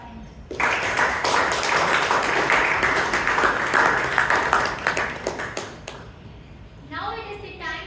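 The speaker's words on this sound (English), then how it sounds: "Please give a huge round of applause for him." An audience at a Toastmasters club meeting in Bangalore claps in a dense, steady round of applause for several seconds; it then fades and a voice begins speaking.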